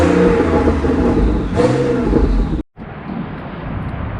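Porsche 911 Turbo of the 997.2 generation, a loud engine roaring steadily and revving near the mic, with a brief dip and sharp cutout before the rumble resumes.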